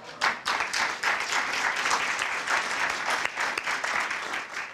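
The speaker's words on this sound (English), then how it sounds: "I realize you've clapped a lot for this fabulous afternoon" An audience applauding at an African American Read-In afternoon event, steady crowd clapping close by, with faint voices underneath.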